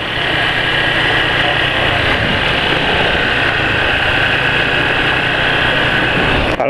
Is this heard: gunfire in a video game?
no